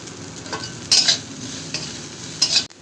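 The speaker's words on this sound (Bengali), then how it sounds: "কড়াইতে হালকা সর্ষের তেলে সেদ্ধ করে রাখা লোটে শুটকিটাকে একটু ভেজে নিচ্ছি।" Boiled dried lote fish fries in a little mustard oil in a wok, a continuous close sizzle broken by a few louder scraping stirs of the spatula against the metal.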